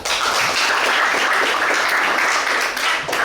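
Classroom applause, a short, loud burst of dense clapping filling the whole few seconds.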